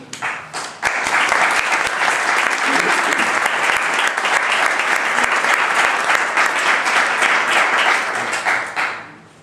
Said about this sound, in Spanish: con un aplauso